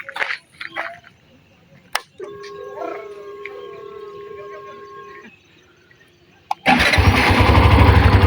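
A Hero Xtreme 125R motorcycle engine catches near the end after a quiet stretch with a faint whining tone, then settles straight into a loud, close idle.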